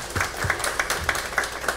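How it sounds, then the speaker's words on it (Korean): Applause in a church congregation, a short burst of scattered hand claps with a loose rhythm, moderately close. "주님께 영광의 박수 한번 돌립니다."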